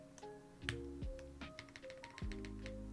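Keys clack quietly on a custom-built mechanical keyboard, giving an irregular run of light taps and clicks close up, with occasional deeper thocks.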